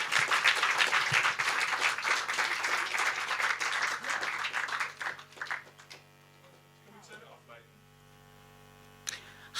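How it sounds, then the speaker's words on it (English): An audience at the close of a day of arts performances gives a round of applause, dense clapping for about five seconds that thins into a few scattered claps and quiet room hum, with brief movement sounds at the end. "Give them a wonderful end of the day kind of round of applause."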